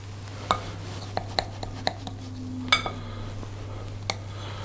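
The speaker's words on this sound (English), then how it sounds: "I'm going to take a knife and try to cut that in half" A knife taps and clacks against a board as it cuts through Abbey Crunch biscuit dough, a handful of sharp separate clicks spread unevenly over a steady low hum in a quiet kitchen.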